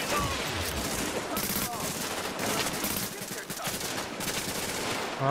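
Dense, continuous gunfire from Tom Clancy's The Division fills the Grand Central Station level, with rapid automatic bursts and overlapping shots sustained loudly throughout, and a player's voice faintly underneath.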